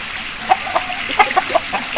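A prize-winning Aseel rooster clucks in short, sharp bursts, five or six quick calls spaced through two seconds, close and clear over faint background noise.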